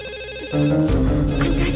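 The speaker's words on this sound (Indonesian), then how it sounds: "Angkat telepon itu." A telephone rings indoors, a quiet electronic tone giving way after half a second to a louder, steady ringtone melody close by, with no one talking.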